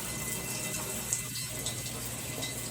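Water runs steadily through a repaired shower head with no leaks, a constant broadband hiss and splash at moderate level. There is no talk.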